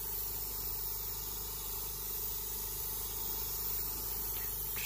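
An airbrush fed by a compressor at about 15 psi sprays Alclad chrome paint in a light dust coat, giving a soft, steady, continuous hiss over a low constant hum, faint and unbroken throughout.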